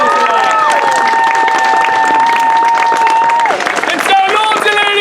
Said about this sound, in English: He takes his bow. You applaud.